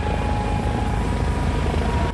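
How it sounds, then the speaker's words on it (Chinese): A search and rescue helicopter flies over the sea near a coastal bay, its rotor and engine a steady loud thrumming drone with no pauses. "讲起咧直升机继续咧找人"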